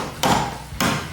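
Two sharp hammer strikes roughly half a second apart while reassembling parts on a 1965 Ford Mustang, each loud and close with a short ringing decay.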